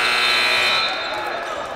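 A sustained electronic buzzer sounds at halftime of a varsity high school basketball game in a gym, a steady tone that fades partway through while crowd noise continues.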